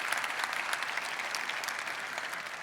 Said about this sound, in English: Can we get a round of applause for the organizers for putting this together?